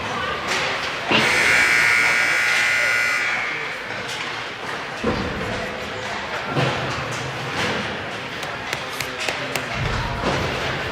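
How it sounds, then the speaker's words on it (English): A loud electric buzzer sounds at a youth hockey game to end warm-ups, a sustained harsh tone lasting about two seconds inside an echoing arena, followed by puck and stick thuds and crowd murmur. "There's the buzzer. Warm-ups are done."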